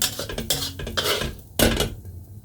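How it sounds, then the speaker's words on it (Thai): A spoon scrapes and clinks against a pan while kimchi fried rice is scooped onto a plate, giving several sharp metallic knocks and scraping strokes close up, with no talking. "ตักใส่จานก่อนนะคะ"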